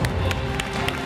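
Studio audience on a television game show clapping in a steady, dense wash, loud and close, with a few sharper claps standing out.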